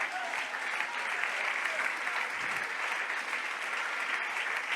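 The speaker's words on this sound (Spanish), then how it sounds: "Dale un aplauso a la gloria." Steady, dense applause from a church congregation at a prayer service, sustained and even throughout with no break.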